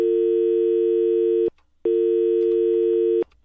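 A telephone line tone plays after a radio phone-in caller's line dropped: two steady, loud beeps, each about a second and a half long, separated by a short silence, with no talk.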